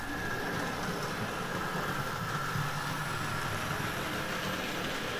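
OO gauge model steam locomotive with a loose tender cover running on a home layout, a steady close motor whirr and track rumble with a light continuous rattle, unchanging throughout.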